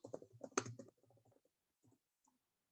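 Typing a git commit command on a computer keyboard, a quick burst of close, quiet key clicks that thin out into a few isolated taps before silence.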